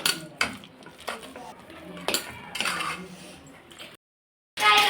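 A spoon clinks and scrapes against a bowl while salted pani puri filling is mixed, in uneven bursts of close metallic knocks. A short silent gap comes near the end before the clatter resumes.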